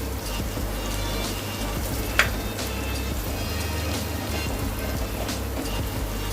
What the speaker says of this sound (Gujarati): હવે આપણે બટાકા ચડી જાય ત્યાં સુધી એને શેકાવા દઈશું.